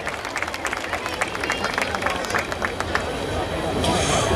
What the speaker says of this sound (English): Round of applause for HEB